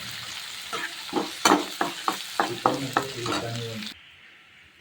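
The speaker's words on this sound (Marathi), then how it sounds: "पोह्यांना चांगला असं एकदा हलवून घेतलेलं आहे" Poha seasoned with turmeric is stirred in a frying pan as a series of rhythmic scraping strokes over a soft sizzle, then the sound cuts off abruptly.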